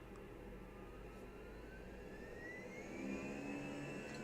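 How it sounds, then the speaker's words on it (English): Fenix A320 jet engines in Microsoft Flight Simulator 2020 spool up on the runway for takeoff, a steady loud roar with a whine that rises in pitch and swells louder toward the end, with no talk. "Hear the engines going in a second."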